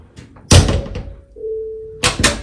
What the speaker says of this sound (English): You can shut these doors if you want to.